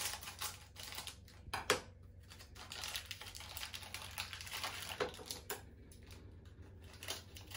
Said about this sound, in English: I'm also going to cut it with some scissors.